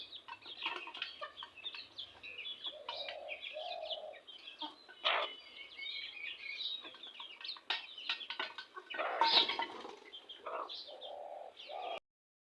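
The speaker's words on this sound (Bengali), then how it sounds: "বিশটার মতো মুরগি আছে এখন" Chickens chirp and cluck in a lively yard, with soft low clucking phrases and brief sharp calls repeating throughout, fairly close.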